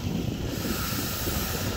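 Calm sea water washing in and out at the shore with few waves, a steady broad wash of surf and wind hiss, moderately loud and continuous with no talking.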